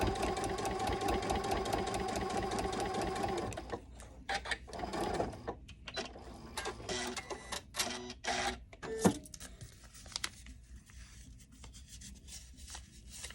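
Sewing machine stitching an appliqué tail onto the body and face of a quilt block, a steady loud mechanical whir at first, then broken into shorter uneven runs of stitching with clicks and handling noises.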